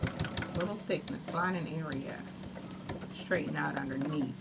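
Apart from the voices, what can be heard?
sewing machine stitching a clutch wallet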